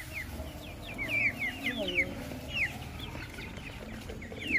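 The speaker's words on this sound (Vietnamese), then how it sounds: "Gà đẹp." Farmyard chickens cluck repeatedly in short, close chirping bursts over a steady rural background, with a person talking faintly underneath.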